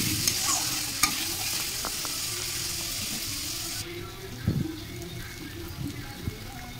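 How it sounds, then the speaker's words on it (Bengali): Sea crab masala with turmeric being stirred and sautéed in a pan at home, giving a steady soft sizzle with scraping stir strokes and a few louder spatula knocks. "এবার এটাকে দিয়ে ভালো করে আমি কষিয়ে নিচ্ছি।"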